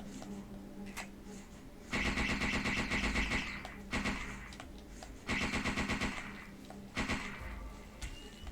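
Gunfire from a flashlight-mounted gun in the video game Parasite Eve 2: two long, loud rapid-fire bursts of rhythmic shots, each about two seconds, separated by single shots and quieter game ambience.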